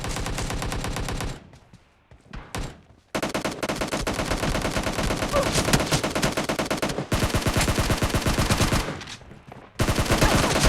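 Rapid automatic gunfire from the video game PUBG Mobile rattles in long, dense bursts, loud and close, broken by one short lull and a brief gap near the end.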